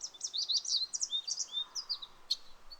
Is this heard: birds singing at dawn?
yes